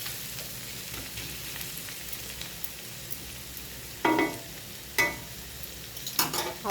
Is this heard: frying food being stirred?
yes